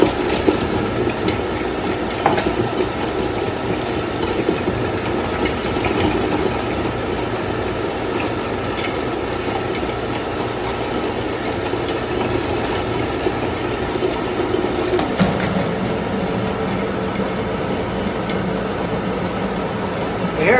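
Steady, loud blowing whoosh with a constant motor hum from a hair dryer held over chocolate being made at home, running continuously without pause for the whole stretch.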